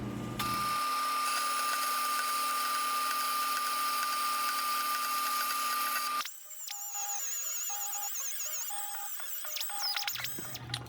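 A steel brake pedal rod for a 1966 Ford Bronco is cut down with a power tool, giving a continuous shrill whine that shifts pitch partway through as the tool bites, loud and close with no voices.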